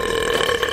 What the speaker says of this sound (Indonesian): Oh tidak, aku akan bersendawa.